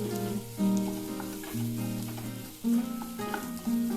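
Chopped onions with cloves, cinnamon stick and cumin seeds frying in hot oil in a pan, a steady close sizzle with low tonal hum and a few brief louder bursts as ingredients hit the oil; no voices.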